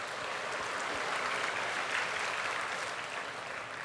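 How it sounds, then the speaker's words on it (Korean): A church congregation applauds together, a steady, even wash of many hands clapping at moderate distance, sustained without pauses and with no clear talk over it. "우리 하나님 아버지께 감사하다고 박수 한번 합니다."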